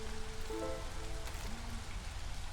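Light video game rain patters in a steady, soft hiss, with faint tonal game sounds drifting over it.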